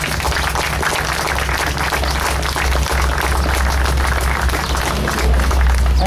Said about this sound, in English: I'm pleased at that applause